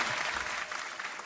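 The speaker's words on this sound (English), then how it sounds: "Wait, hold for applause." Steady audience applause, dense clapping throughout at moderate level, fairly close, with no voices over it.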